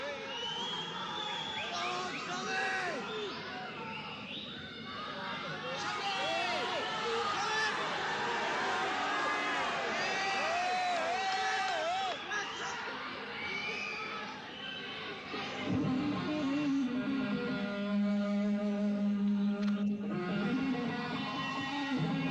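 A restless crowd at a 1976 rock concert in Liverpool, a dense roar of shouting and chatter that rises and falls, with a few louder outbursts and a guitar tone surfacing near the end.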